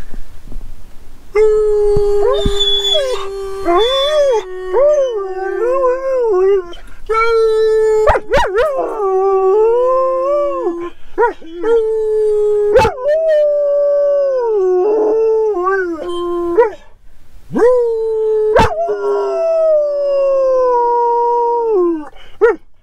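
A dog howls loudly and close by in long, wavering, drawn-out cries broken by short pauses and a few sharp yips.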